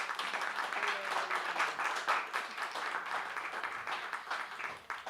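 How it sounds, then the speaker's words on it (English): Audience applause for panel speakers at a conference on media freedom, steady broadband clapping from a sizable crowd sustained for about five seconds at moderate level. "Please give them a warm round of applause for making the time."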